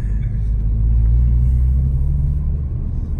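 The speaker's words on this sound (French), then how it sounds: "Alors le son de la voiture, ça reste correct." A modified car's engine and exhaust give a steady, deep, close rumble at idle, low and even throughout with no talking.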